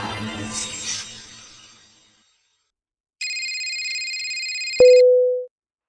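A voice fades out, then an electronic telephone ring sounds as one steady, buzzy tone for about two seconds, ending in a short beep.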